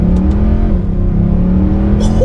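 A 490 bhp Mercedes C63 AMG engine drones loud and close with a steady, deep throbbing note, and a brief airy whoosh cuts in near the end.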